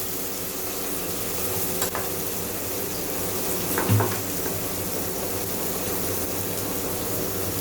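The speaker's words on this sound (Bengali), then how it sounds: "টমেটোটার কাঁচা গন্ধ যাওয়া যতক্ষণ না যায় ততক্ষণ আমাকে ভেজে নিতে হবে।" Tomato fries in a pan with a steady, dense sizzle, broken by a couple of brief clinks near the middle, close and fairly loud throughout, with no talking.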